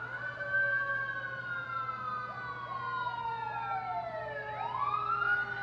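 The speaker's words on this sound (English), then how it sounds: "there's sirens going off" Emergency vehicle sirens wail outside in Los Angeles, several overlapping tones sweeping up and down steadily, fairly loud and sustained over a low constant hum.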